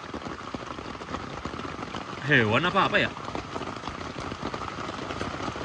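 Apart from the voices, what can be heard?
heavy rain during a storm on a mountain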